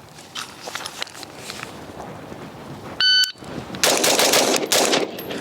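Rifle shots in a timed shooting string on a range, fired from an AR-style rifle with a new upper receiver: a sharp electronic timer beep, then a loud burst of rapid, close shots following in quick succession.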